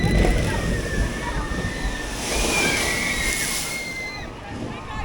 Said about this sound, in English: now we're going to capture the tidal wave coming towards the bridge, soaking the guests